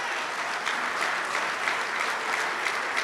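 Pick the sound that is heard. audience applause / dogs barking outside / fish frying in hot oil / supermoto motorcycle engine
audience applause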